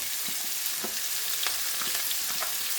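Garlic fries in a pan for a king prawn curry, giving a steady soft crackle with occasional light stirring taps, moderately quiet throughout.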